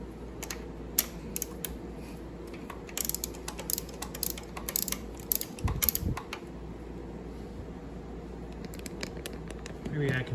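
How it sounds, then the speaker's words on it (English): A socket wrench on a long extension works a spark plug loose on a Harley-Davidson V-Rod, giving scattered ratcheting clicks and metallic taps at close range while someone talks. "You'll have to drop your long extension and socket down in there to pull out your spark plug."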